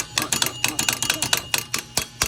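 Rear car brake with a missing hardware adjuster and a broken clip: quick, irregular metallic clicking and rattling taps, close and fairly quiet, repeating throughout.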